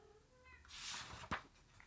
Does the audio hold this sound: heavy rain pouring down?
no